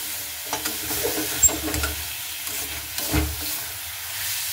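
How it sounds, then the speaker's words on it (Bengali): Beans and potatoes frying in a covered pan, stirred after the lid is lifted; a soft continuous sizzle and hiss with a few scraping stirs and light clunks, close up and without speech. "এবার আমি ঢাকনাটা উঠিয়ে এবার নাড়াচাড়া করে নেব আবারও।"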